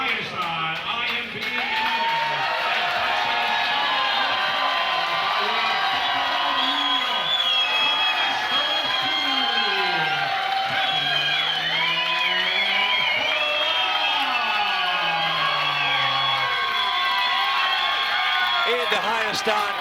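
A packed arena crowd at an MMA cage fight at Harley Davidson of Charlotte roars steadily, with continuous loud cheering, whoops and shouting voices layered throughout and no break in the din.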